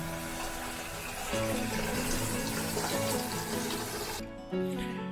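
Dishes being washed under a running tap: a steady, full gush of water pours continuously, briefly cutting out near the end before resuming, with faint clinks and no voices.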